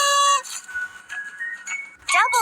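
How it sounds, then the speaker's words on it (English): A bright cartoon whistle toots in a kids' ABC learning game, sounding clearly at the start and again at the end, with a voice talking in between. "W is for whistle."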